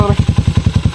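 A motorcycle engine at a roadside checkpoint chugs close by in fast, evenly spaced thumping pulses, with a brief voice at the start.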